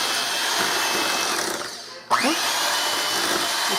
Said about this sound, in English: I'm going to use a mixer